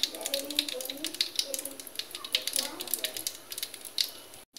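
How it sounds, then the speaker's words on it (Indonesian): Chicken pieces for a homemade butter-sauce chicken frying in hot oil, with a steady bright crackle and spatter running throughout under a person talking. "Setelah panas seperti ini, kita masukkan dan goreng."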